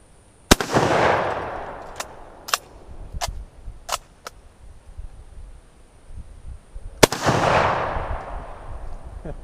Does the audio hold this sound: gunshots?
yes